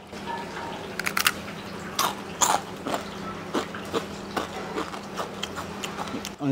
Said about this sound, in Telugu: ఈ చెకోడీల స్పెషాలిటీ ఏంటంటే మాత్రం మంచి గుల్లగా కరకరలాడుతూ ఉంటాయి